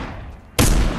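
Gunfire in Fortnite, an abrupt loud burst of shots that starts about halfway through after a quieter stretch of game ambience and carries on to the end.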